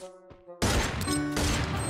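Burst of rapid gunfire in the mobile shooter Free Fire, a loud dense volley kicking in abruptly after a short quiet musical tone and continuing steadily to the end.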